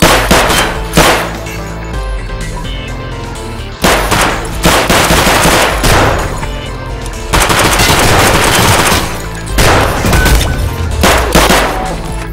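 Automatic gunfire in the video game Escape from Tarkov rattles out in loud, dense bursts, with several sustained volleys separated by short breaks and no talk.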